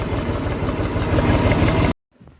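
An HMT 368 tractor, roughly a 2000 model, idles with a steady low, throbbing diesel chug for about two seconds before cutting off abruptly into near silence.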